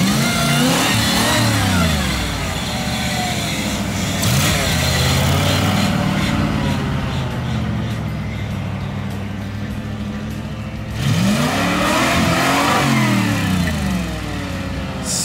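A Ford Bronco V8 engine fitted with Holley Sniper electronic fuel injection and with timing pulled back at wide open throttle revs up repeatedly, loud and close, with rising and falling pitch sweeps between steadier running.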